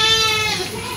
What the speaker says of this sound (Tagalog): Sinasara nila yung kambing